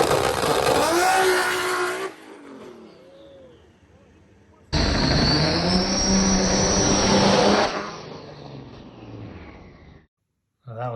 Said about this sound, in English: That was the wheelie pass we just made.